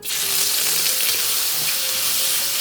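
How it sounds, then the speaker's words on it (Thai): Shiitake mushrooms dropped into hot oil in a pan, giving a loud, dense, continuous sizzle and crackle up close with no talk. "พอน้ำมันเริ่มร้อนแล้วนะครับ ทีนี้ให้เราใส่เห็ดหอมครับ"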